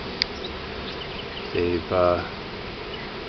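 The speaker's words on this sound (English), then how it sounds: "the swarm is now moved off the rose bush and moved into the box" A honeybee swarm moves off a rose bush into a wooden hive box, giving a steady, faint, distant buzz throughout, with a brief voice speaking near the end.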